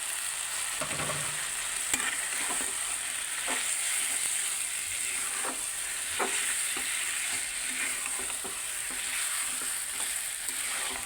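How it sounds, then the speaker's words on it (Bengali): Pieces of free-range native chicken fry lightly in a spiced masala, with a steady close sizzle and occasional sharp spoon-on-pan stirring clicks throughout. "এরকম করে একটু হালকা ভাজা ভাজা করবো দেশি মুরগি তো"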